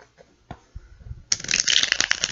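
A tarot deck being shuffled: a few light taps and handling noises, then a dense, crisp riffling burst close by for about a second.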